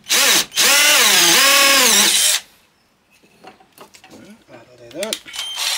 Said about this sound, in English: so that's why I'm countersinking it, just a few mil.